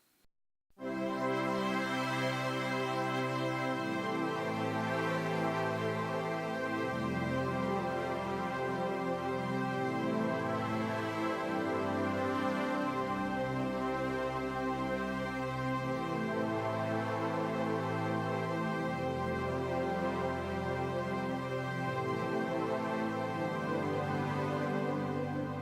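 Keyboard plays the chorus of a song, sustained full chords with a shifting bass line ringing steadily and loud for the whole stretch after a brief quiet start, no talking.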